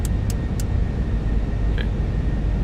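Simulated C-17 Globemaster III jet engines at increased power in Microsoft Flight Simulator 2024 give a steady low roar, broken by a few short electronic beeps.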